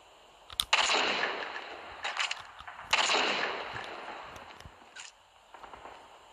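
Gunfire in the video game Call of Duty Mobile rings out in two sharp, echoing bursts about two seconds apart, each trailing off into fainter shots and clicks, with no talk over them.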